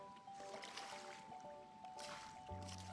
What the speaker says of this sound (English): I hear splish splashing.